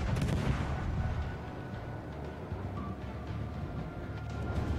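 Naval guns firing in the World of Warships video game: a low, rumbling barrage of distant booms rolls on continuously under a steady wash of game noise.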